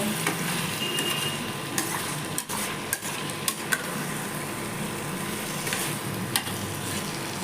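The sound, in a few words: chicken curry frying, stirred with garam masala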